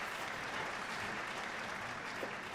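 Sustained applause from a concert audience following an operetta in Trails of Cold Steel: many hands clapping in a dense, continuous stream, loud and near, one brief faint tonal blip near the end.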